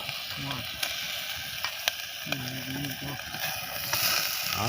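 Steady hot-oil sizzle and crackle of rat meat frying, with scattered pops, beneath brief bursts of nearby voices.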